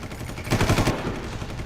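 Automatic weapon fire in the shooter game Far Cry, a dense burst of rapid shots swelling at the middle of the moment over steady background game noise.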